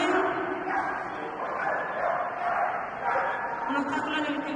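A dog barks and yips at an agility exhibition in Málaga, the calls mixing with loud continuous commentary in Spanish and crowd noise.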